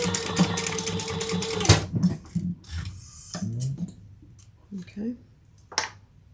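A home sewing machine bastes the ends of a fabric backpack together, running in a fast steady whir for nearly two seconds, then stopping, followed by handling rustles and short clicks with a few brief stitch bursts.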